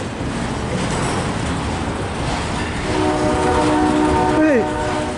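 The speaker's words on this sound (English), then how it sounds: "This train is so long." A CSX freight train rumbles past in Fostoria, Ohio, with a constant heavy roar, and a loud horn blast sounds over it in the second half.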